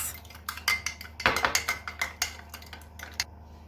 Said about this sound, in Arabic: قلبت معلقه الخميره الصغيره مع ربع كوبايه الميه مع معلقه السكر